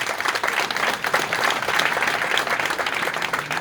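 Audience at a Gabonese political gathering applauding loudly, a dense continuous wash of clapping close and sustained throughout.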